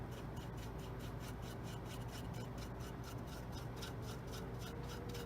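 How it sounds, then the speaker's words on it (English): A stiff brush rubs clay wash over a Tamiya Merkava model tank in quick, regular back-and-forth strokes, a faint, dry scratching rhythm in a quiet room. "rub this clay wash like this, and it rubs off the majority of it, leaves it in the grooves"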